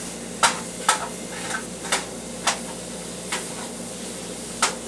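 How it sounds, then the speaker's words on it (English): One pound of ground beef hits a pan on medium-high heat, giving a steady sizzling hiss broken by sharp, regular scrapes and clacks of stirring. "We're using 1 pound of ground beef, which we're throwing into our pan. Pan is going to be on medium-high heat."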